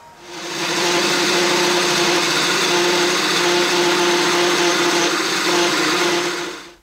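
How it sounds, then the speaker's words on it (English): A wood lathe spins a pepper mill blank while a parting tool is driven in to cut a tenon. A loud, steady whine and hiss swells up, holds for several seconds, then fades out. "I'm going to get my parting tool and I'm going to drive it into here"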